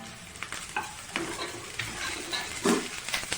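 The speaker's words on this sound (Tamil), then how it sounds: "நல்லா ஃப்ரை ஆகட்டும்." Ginger, onion and green chili sizzle and fry in hot oil, a steady crackling hiss with occasional stirring scrapes close by.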